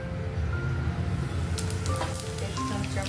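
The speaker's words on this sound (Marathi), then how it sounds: "आता फोडणीमध्ये आपण एक चमचा जिरे टाकू" Cumin seeds sizzle in hot oil for a tempering in a drumstick curry, a steady close crackling hiss that brightens with sharper pops toward the end.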